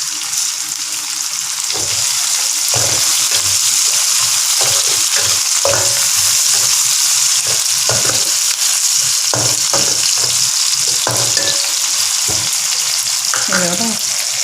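Onion and tomato sizzle steadily in hot oil for a Tamil-style stir-fried squid dish, with intermittent scraping and stirring knocks from a spatula in the pan, close and continuous with no talking.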